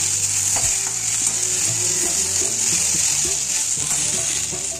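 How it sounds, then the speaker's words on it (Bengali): Tomato and green chilies frying in a pan with potatoes and onions, giving a steady close sizzle throughout with scattered stirring clicks and scrapes. "এরপর আমি দিয়ে দিলাম কয়েকটা কাঁচা লঙ্কা আর একটা টমেটো। টমেটোটা বেশ ভালো করে ভেজে নেব।"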